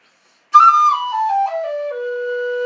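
A G pennywhistle (peso whistle) plays a short descending melodic phrase, stepping down through several clear notes and settling on a held low note, close and alone.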